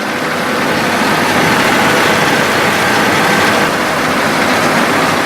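A 1994 Oldsmobile 98 Regency engine runs at a steady idle, a loud, close, even rumble with a broadband hiss and no talking.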